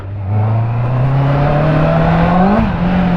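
A Honda CB 650 R motorcycle engine revs while riding, a loud close drone rising steadily in pitch, then dipping as the throttle eases.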